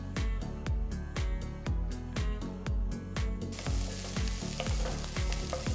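Loud, steady sizzling of chopped onions and green chillies frying in a pan for chicken kurma, punctuated by rhythmic scraping strokes of a spatula stirring close by.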